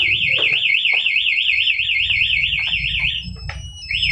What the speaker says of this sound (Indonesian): yang alarm di motor ataupun yang di remote dia akan respon